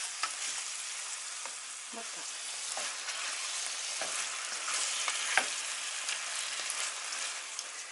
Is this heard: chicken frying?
yes